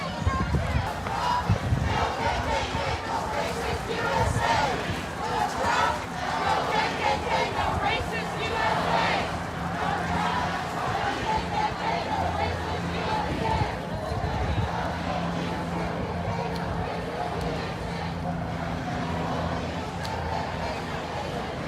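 Crowd of protesters at a George Floyd protest in Charlotte, North Carolina: a continuous outdoor babble of many voices and footsteps, with a nearby voice speaking over the steady crowd noise.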